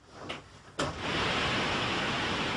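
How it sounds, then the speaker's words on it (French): Steady broadband white noise of the kind fed through headphones for Ganzfeld sensory deprivation during a laboratory clairvoyance test, starting after a brief quieter lead-in and then holding a constant, even hiss to the end. "des écouteurs diffusant ce qu'on appelle un bruit blanc"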